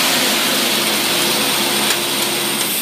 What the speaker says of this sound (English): Now, as we rev it up, the mixture will thin out a little bit because you're overcoming inertia.